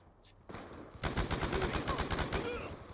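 Shotgun gunfire in Call of Duty Black Ops II, a burst of rapid, loud shots beginning after a short quiet lead-in and continuing densely to the end.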